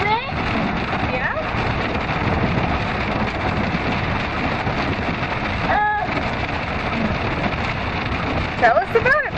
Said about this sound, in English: Is the rain cool?